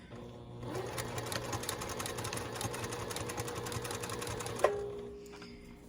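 A Juki TL 18 QVP (Quilt Virtuoso PTO) sewing machine runs steadily at stitch length 3 while replacing a Carhartt hoodie zipper, a close continuous mechanical whir ending with a sharp click before it stops.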